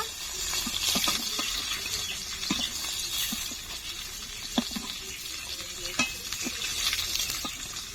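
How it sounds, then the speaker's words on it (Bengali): Pieces of rohu (rui) fish fry in hot oil until reddish, producing a dense, steady sizzle with scattered pops and crackles and occasional utensil knocks, close and moderately loud. "মাছগুলো লাল লাল করে ভেজে নিয়েছি"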